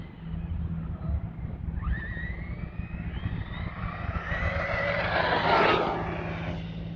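A Redcat Kaiju EXT RC monster truck on a 4S battery races past at near full speed in a small parking lot, its electric motor whine rising in pitch and swelling loud as it nears, then falling away.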